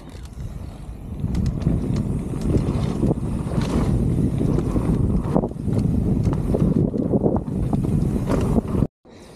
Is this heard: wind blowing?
yes